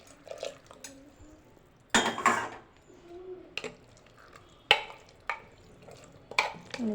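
Cowpeas and water being stirred in a pot, with intermittent scraping and clanking bursts of a spoon against the metal, separated by brief quiet gaps.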